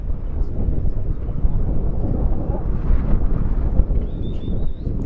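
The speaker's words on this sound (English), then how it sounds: "Can hear the wind blowing in the background." Strong wind gusts across the field at a college baseball game between West Texas A&M and Lubbock Christian, a low, continuous rumbling buffet against the microphone that swells and eases without pause.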